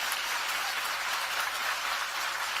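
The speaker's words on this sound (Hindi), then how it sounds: "है तो जोरदार तालियां प्रधानमंत्री जी के लिए" Crowd applause for the Prime Minister at an Indian political rally, a dense steady wash of many hands clapping at an even level throughout, with no voices over it.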